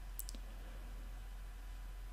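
A couple of quick, faint computer mouse clicks sound near the start, crisp and close against a quiet low hum, followed by near silence.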